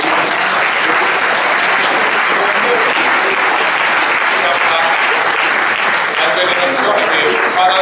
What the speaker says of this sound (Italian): Perché un applauso.